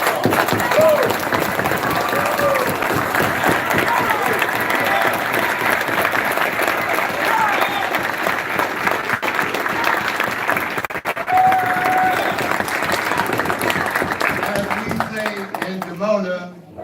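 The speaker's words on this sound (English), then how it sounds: "Let's give a round of applause" Sustained audience applause at a Hebrew summit gathering in Atlanta, loud dense clapping with some cheering that carries on for many seconds before fading out near the end.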